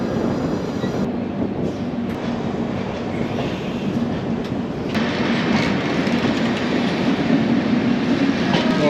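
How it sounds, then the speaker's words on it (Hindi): A passenger express train on old track rounds a curve, its wheels rumbling and clattering steadily on the rails, heard from aboard, continuous and moderately loud with a faint high squeal, no talk. "और देखो भाई हमारी ट्रेन कर्व ले रही है"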